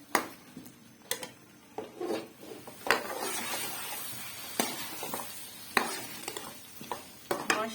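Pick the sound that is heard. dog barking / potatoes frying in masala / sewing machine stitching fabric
potatoes frying in masala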